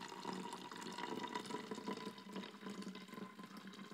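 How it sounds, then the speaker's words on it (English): Vinegar (acetic acid) pours into a bottle with a soft, continuous gurgling trickle, fairly quiet and close, with no talking. "So what we're gonna do is pour some into the bottle like that, yeah?"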